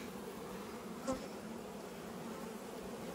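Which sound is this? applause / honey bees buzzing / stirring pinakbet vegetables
honey bees buzzing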